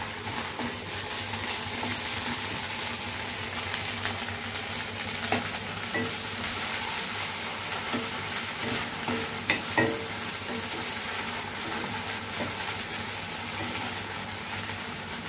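Fresh curry leaves frying in hot oil for a carrot coconut curry, a steady close sizzle and crackle with occasional stirring scrapes, continuous and alone without talk.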